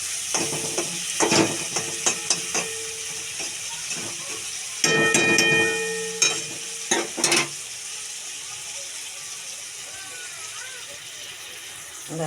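Food is stirred in a frying pan under a soft continuous sizzle, with bursts of spatula clatter and scraping near the start and middle, and a voice speaking briefly.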